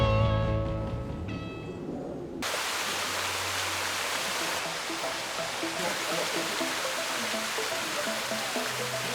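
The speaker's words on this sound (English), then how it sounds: "We had no idea they were turning on waterfalls today." A large backyard pool waterfall in Orlando pours into a rock cave, a steady loud rushing wash that starts abruptly after a few seconds of music and continues evenly to the end.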